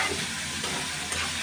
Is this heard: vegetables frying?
yes